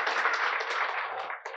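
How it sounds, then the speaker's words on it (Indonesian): Seminar audience applauding a speaker during a question-and-answer session on divorce and remarriage, a brief burst of fairly close, dense clapping that fades out toward the end. "kita beri tepuk tangan dulu buat Pak Jeff ya"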